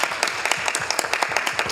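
Audience applause at a city council meeting honoring members of the Chinese Arts Association of San Francisco, a steady dense patter of many hands clapping at moderate loudness for a couple of seconds.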